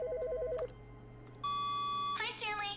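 A telephone rings in The Stanley Parable: Ultra Deluxe, first as a quick warbling trill and then as a steady electronic tone. A voice follows right after it.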